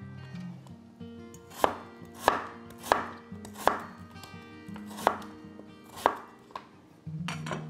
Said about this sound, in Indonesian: Kita potong sama kayak lobaknya.